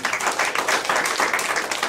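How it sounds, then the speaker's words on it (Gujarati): Audience applause at a Gujarati literary event on the novel Karanghelo, a dense, steady patter of many hands clapping continuously throughout, moderately loud with no talk. "આપણે એમને તાળીઓના ગળગળાથી વધાવીએ"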